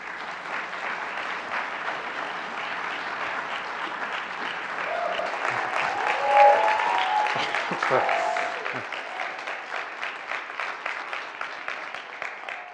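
An indoor audience at an environmental symposium closing plenary claps steadily to welcome speaker Dawone Robinson, a dense sustained round of applause that swells midway and then thins into scattered claps.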